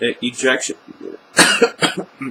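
A single sharp cough bursts out between stretches of someone reading a story aloud, close and fairly loud, with speech on both sides.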